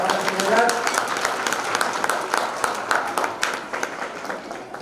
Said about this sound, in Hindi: हम चाहेंगे जोरदार तालियों से भाई साहब का स्वागत किया जाए